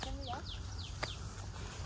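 A sooty-headed bulbul (kutilang) calls in forest with a few short, faint, sweeping chirps spaced over a quiet background hiss, and a low voice murmurs at the start.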